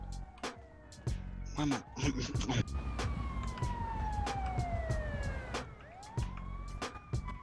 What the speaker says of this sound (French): Il y a une ambulance